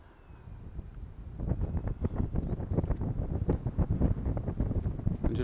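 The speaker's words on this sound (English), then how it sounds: "A little bit of whistling there coming through as the wind passes the struts." Wind whistling past the wing struts of an XK Innovations A160 J3 Cub model plane in flight at reduced throttle, a faint thin whistle over gusty, buffeting wind noise on the microphone.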